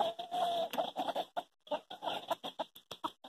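An Ameraucana rooster and hens clucking close by in a rapid, uneven series of short calls with brief pauses.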